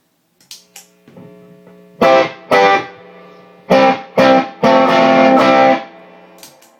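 Tube distortion from Phil's pedal, quiet and tight, heard as a guitar playing several distorted chord bursts that ring out and cut off, with sparse picked notes at the start and no talk.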